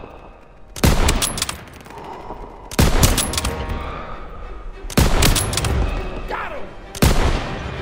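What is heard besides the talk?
gunfire in the video game Call of Duty: WWII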